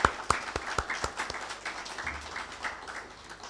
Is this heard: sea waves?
no